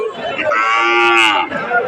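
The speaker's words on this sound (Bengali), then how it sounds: "বাছুর গরু।" A single loud, close moo from a calf at a cattle market in Thakurgaon, rising and drawn out for about a second before fading.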